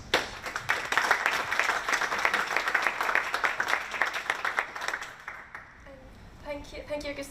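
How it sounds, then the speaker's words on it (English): Audience at a panel discussion on European grid challenges gives the speakers a warm round of clapping, dense and even, fading after about five seconds as a voice begins talking. "please give them a warm round of applause"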